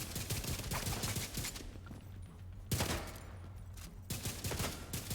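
Video game gunfire from The Division 2, fast repeated shots in bursts separated by short lulls, loud and close, with no talking.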